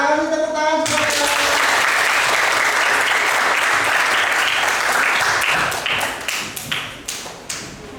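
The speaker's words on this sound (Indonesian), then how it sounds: "Terima kasih, tepuk tangan semuanya." Loud, full applause breaks out from a room of students in a classroom teaching session. It holds steady for several seconds, then thins into scattered individual claps near the end.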